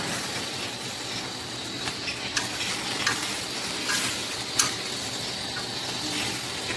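Broccoli, cauliflower, carrots and short green beans sizzle steadily in a hot pan, a continuous close frying hiss broken by a few brief scrapes and clinks of stirring, with no talk.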